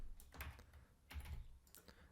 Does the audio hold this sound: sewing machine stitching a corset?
no